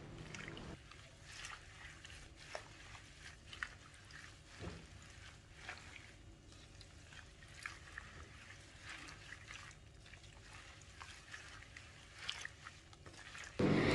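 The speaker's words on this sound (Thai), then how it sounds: "มาล้างดอกแคนากันค่ะ ก็จะล้างแบบนี้ไปประมาณ 1-2 รอบค่ะ" Sesbania flowers are washed by hand in water, making soft, faint splashing, swishing and dripping sounds with small irregular bursts, close by and unaccompanied by talk.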